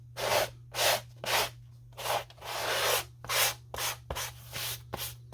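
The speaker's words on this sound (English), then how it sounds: "So you have to scuff it up so that the contact cement will stick as well as possible." Slipper material for a shearling slipper kit is scuffed up by hand before contact cement is applied, giving close, rhythmic rasping rubbing strokes, about a dozen in quick succession over a low steady hum.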